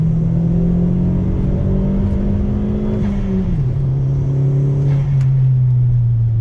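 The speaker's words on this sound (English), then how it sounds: "So let's do a second gear roll on throttle." A turbocharged Chevrolet Sonic's engine revs steadily under load as it accelerates in second gear; the pitch climbs and then dips once, like a gear held and then eased, with loud continuous drone.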